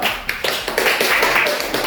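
Students in a classroom clap together in a quick, rhythmic pattern of sharp bursts, close and fairly loud.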